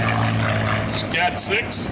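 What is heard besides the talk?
P-51D Mustang propeller aircraft flyby at airshow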